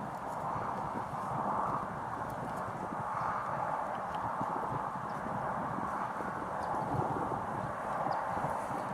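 A horse moves about with a soft, continuous patter of hooves on the ground, faint and slightly distant, mixed with low background rumble.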